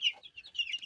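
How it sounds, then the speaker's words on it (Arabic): A Ruzzi rooster raised on a small farm gives a quick run of soft, close clucks, several short bursts in a row with no speech. "الديك الرزي ما شاء الله."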